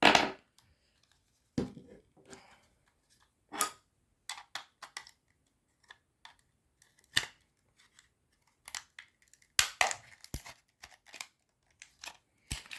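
An old Siemens home telephone's plastic casing is cracked and pried apart by hand, giving sharp, scattered snaps and clicks with quiet gaps between them, close and fairly faint.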